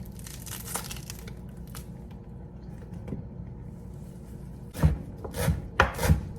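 A knife chops fresh cilantro on a board in a home kitchen, a few quiet cuts early on, then a cluster of louder, crisp chops near the end, with no voices.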